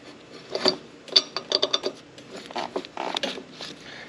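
Metal bolts slide and clink out of a motorcycle rear brake caliper bracket, a handful of small close clicks and scrapes spread over a few seconds, fairly quiet, with no talking.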